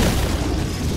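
Shotgun firing in Killing Floor, one heavy booming blast filling the whole second, loud and close.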